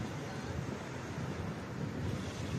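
Sea wind blows steadily in the capital, Baku, rushing across the microphone as a constant broadband roar with faint surf-like swells and no clear voices.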